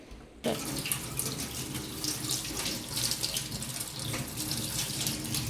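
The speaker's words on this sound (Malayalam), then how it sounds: "ഇതിനകത്തെ ഈ ബ്ലഡിൻ്റെ കട്ടയൊക്കെ നന്നായിട്ട് കഴുകി കളഞ്ഞിട്ട്" Tap water runs steadily into a sink while raw chicken is washed for homemade alfaham, a continuous close splashing rush that starts abruptly and carries on with no voices.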